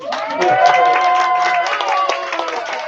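An audience at a live performance gives another round of applause: sustained, fairly close clapping mixed with cheering voices, steady throughout.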